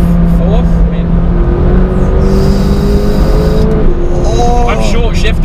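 A McLaren 570GT sports car accelerating after a downshift to fourth gear, its engine note climbing loud and close with a gear change near the end, and someone talking over it.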